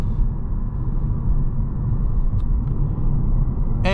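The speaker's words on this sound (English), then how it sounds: "You do get a little bit of tire noise involved, but that's nothing really to scoff at." Low, steady road rumble and tire roar fill the cabin of a 2027 Chevrolet Bolt RS driving up a twisty hill, a continuous muffled drone with a couple of faint ticks.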